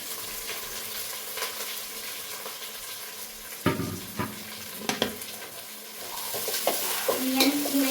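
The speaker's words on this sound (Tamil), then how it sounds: "இந்த எண்ணெயிலே நல்லா ஆனியன் வந்து எப்படி வதங்கணும்னா ஒரு மாதிரி ட்ரை ஆகணும்" Onions and green chillies sautéing in oil for a country-chicken biryani, a steady low sizzle with stirring scrapes and a few sharper clinks of the spoon, close and alone without talk.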